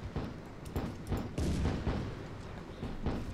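A vehicle-mounted gun firing in the toy war video game Attack on Toys, a quick run of heavy booming shots in an uneven rhythm, loud and dense with no talking.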